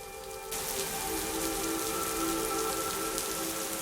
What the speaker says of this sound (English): The rain fell heavily.